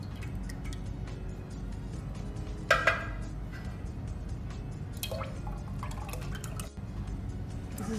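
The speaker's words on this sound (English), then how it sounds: "This is coconut milk. I'm adding 3 cans." Three cans of coconut milk pour into a pot for a dairy-free caramel sauce, giving a steady liquid trickle with a few brief louder splashes and drips over continuous low background noise.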